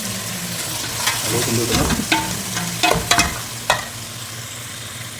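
About three quarters of a kilo of chicken for biryani fries in a pot, a loud, continuous sizzle with clattering stirs and scrapes, while a voice speaks briefly.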